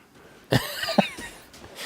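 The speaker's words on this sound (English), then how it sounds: "His breathing puts me off." A character in the video game Construction Sim breathes heavily, two sharp close huffs in quick succession trailing into a softer exhale, with nothing else around it.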